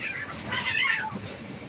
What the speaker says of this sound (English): Cats are fighting again.